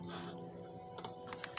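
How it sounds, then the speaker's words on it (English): Typing on a computer keyboard during a Roblox game: a handful of sharp, close key clicks in an uneven burst over steady, tonal game music. "I'm typing this in the chat."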